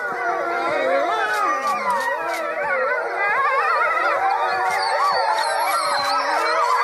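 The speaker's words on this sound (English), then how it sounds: "whenever the alarm goes off, they howl at it" A pack of wolves howls in long, wavering overlapping tones answering a night alarm, sustained and fairly loud throughout with no pauses.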